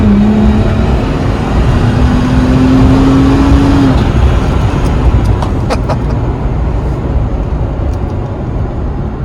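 A supercharged second-generation Toyota Tacoma with a Procharger gives a loud, steady engine roar with a faint whine rising early on, then a few sharp clicks and chirps, and no talking.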